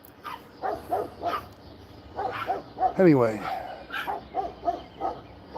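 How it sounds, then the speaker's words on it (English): A decent-sized neighborhood dog barks and yips repeatedly at middle distance, short bursts in an irregular rhythm, with someone talking nearby over the barking. "That's the neighborhood dog."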